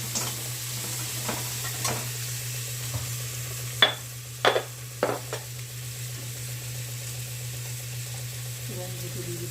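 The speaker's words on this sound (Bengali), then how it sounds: "পেঁয়াজটাকে ভালো করে ভেজে নিতে হবে" Onions frying in a pan for a cabbage dish, a soft continuous sizzle with a low steady hum beneath and several sharp scrapes of a spatula against the pan.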